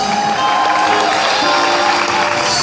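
A church congregation at a French-speaking retreat gathering acclaims loudly, with dense sustained applause and cheering from a large crowd, close and continuous throughout.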